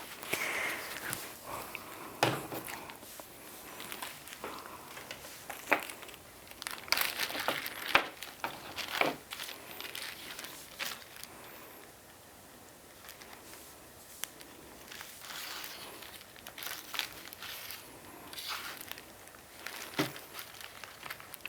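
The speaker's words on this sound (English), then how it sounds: "Get my paper towel, wipe my hands off" Paper towel crinkled and rubbed while wiping hands after bead garland crafting, intermittent soft crumpling and rustling bursts at close range, irregular and fairly quiet, no voices.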